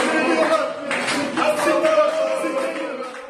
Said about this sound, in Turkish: Fenerbahçe taraftarları Anadolu Efes koçu Ergin Ataman otobüsten iner inmez doping yapsana tezahüratı yaptı.